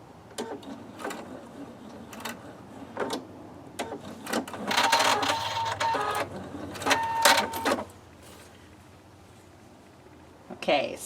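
A sewing machine stitches a Lemoyne Star quilt block, with short bursts of rapid needle clatter, a few brief back-stitch runs and pauses in between, quiet and close, with a person talking between bursts.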